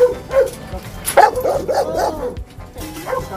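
Several dogs barking and yipping inside a large kennel housing cane corso puppies, a quick run of close, fairly loud barks and whimpers with no talking.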